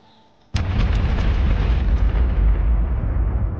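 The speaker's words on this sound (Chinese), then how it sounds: "毁灭菇子弹成功打败了史蒂夫巨人。" A doom-shroom bullet explodes in a video game, striking a giant Steve. A sudden, loud blast gives way to a sustained, roaring rumble that fills the rest of the moment.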